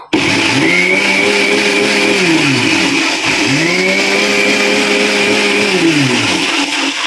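A mixer grinder blending a milkshake whirs loudly and continuously, its motor pitch sagging and rising twice as the contents churn inside.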